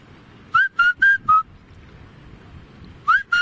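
A man whistles an imitation of the Indian cuckoo's bou kotha kao call, four clear rising notes in quick succession, a pause, then the phrase starting again, close and alone over faint background noise.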